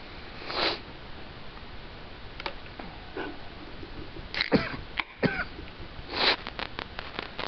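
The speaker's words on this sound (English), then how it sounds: "all the sniffling and coughing and the hacking and the sniffling again" Sniffs and coughs from people in a lecture hall, scattered short bursts over steady room hiss, one cough fairly loud and others fainter, with no talking.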